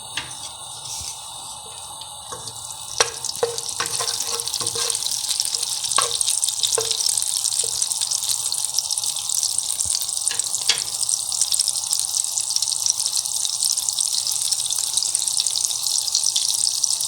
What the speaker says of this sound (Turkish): Tavama ben yağımı koydum. 3 yemek kaşığı kadar sıvı yağ, 1 yemek kaşığı kadar da tereyağı ekledim. Şimdi yağımın erimesini bekliyorum.